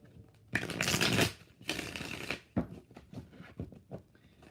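Tarot cards are shuffled close up in several riffling bursts, two long ones followed by shorter flicks and taps.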